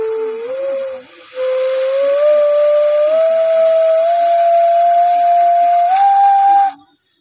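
A homemade flute made from a trash bottle plays one sustained breathy tone that slides slowly upward, with a short dip near the start, then cuts off cleanly.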